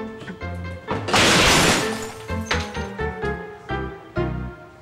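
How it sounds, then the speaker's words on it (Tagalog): A glass fishbowl shatters in a sudden loud crash with scattering debris, while people talk before and after the break. "yung fishbowl, nabasag."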